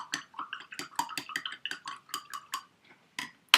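Forever Absorbent-C mixed by hand in a container, a run of quick, bright scraping and clinking strokes in a steady rhythm, close and fairly loud, with a brief pause near the end before a final sharp knock.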